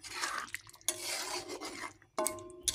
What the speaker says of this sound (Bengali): এবারে একটু নেড়ে চেড়ে এটাকে বন্ধ করে দেব, গ্যাসটা